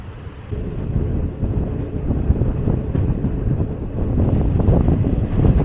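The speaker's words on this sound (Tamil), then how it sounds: "அந்த பக்கம் வந்து செங்கோட்டையிலேருந்து தாம்பரம் போகிற ட்ரெயின் கிராசிங் ஆகிட்டு இருக்கு." The Sengottai to Tambaram train crosses nearby, a loud steady rumble and rolling rail roar that swells slightly toward the end, heard with wind buffeting the microphone.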